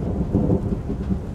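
Thunder rumbles low and heavy amid falling rain as a sound effect in a narrated road-trip story about a bus journey through a flooded area, a loud deep roll with no voice over it.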